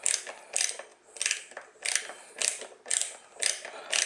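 A Gorilla ratchet screwdriver drives a screw into wood with rhythmic back-and-forth twists. Each stroke gives a close burst of clicking ratchet teeth, about eight bursts in a steady cadence with no talking.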